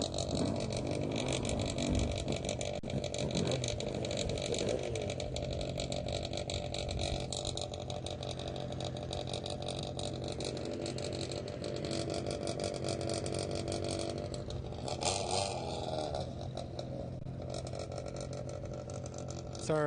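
A hillclimb race car idles at the start line of a Class 1A run, its engine a steady rough drone near at hand with brief revs, and faint talk in the background.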